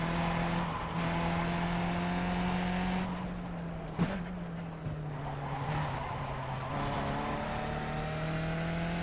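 Race car engine in the iRacing sim, a steady droning note that shifts pitch as the car brakes and accelerates around the track, with a brief sharp knock around the midpoint, loud and continuous throughout.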